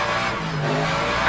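An LMGT3 race car engine in a sim racing game at the Spa circuit, a steady loud droning hum that holds one pitch through a short stretch, without voices.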